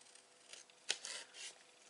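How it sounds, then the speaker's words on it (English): Long scissors snip through paper and card, first in quiet light rustles and then with one sharp, distinct cut, followed by softer slicing and trimming sounds in a quiet room. "use your long scissors and snip that off."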